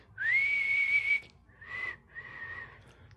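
A person whistles loudly up close in three sustained tones, a long steady note followed by two shorter ones with brief gaps between.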